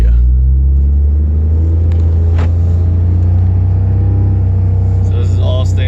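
Diesel truck engine droning heavily while driving at under 2,000 RPM, a loud, steady low rumble that fills the cabin, with road noise layered over it.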